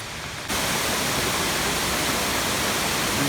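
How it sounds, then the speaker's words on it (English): A waterfall in the Pisgah National Forest mountains of North Carolina, heard up close as a loud, constant broadband roar of rushing water that swells in abruptly after a brief quieter moment and then holds steady. "Get another video of this waterfall."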